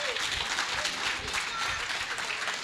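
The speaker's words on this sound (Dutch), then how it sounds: "we moeten een applaus hebben" Audience applauding the head technicians at an indoor Glazen Huis charity event in Geleen, a steady dense clapping throughout at moderate level.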